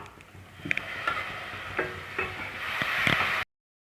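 Tomato paste and masala sizzle and fry in a pan for a restaurant-style chicken handi gravy, with steady crackling and several clear scrapes and taps of a stirring spoon, no voices.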